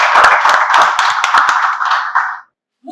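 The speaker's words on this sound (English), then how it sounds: "Can we give a round of applause for us?" Applause at a health informatics event, a burst of clapping from a modest group with distinct individual claps, close and loud, stopping abruptly before a brief silence.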